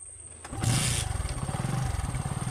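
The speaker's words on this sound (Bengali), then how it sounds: "এবার বাইকে করে চলে যাব।" A motorcycle starts near a forest road by a river, a short cranking burst followed by a steady, close, pulsing idle.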